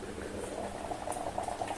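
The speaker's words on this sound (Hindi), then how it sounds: "काटने के बाद थोड़ा-सा पानी लेके कुकर में हम इसको उबाल लेंगे थोड़ा-सा।" Chopped mango pieces in a little water boiling inside a pressure cooker, giving a close, continuous bubbling and simmering patter without any talking.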